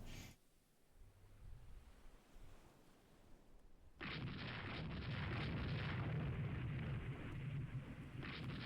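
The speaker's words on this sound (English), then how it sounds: "Unidentified ship opens fire on unknown ship." Naval ship gunfire in the video game Rule the Waves 3, a sudden heavy burst of booming fire that breaks in after quiet and keeps rumbling loudly to the end.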